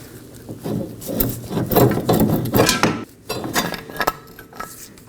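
Steering knuckle pulled free from the rear suspension of a 2018-2024 Chevrolet Equinox 1.5L during CV axle replacement: close, loud scraping and clunking metal with ratchety rubbing bursts, a brief pause near the end, then more knocks.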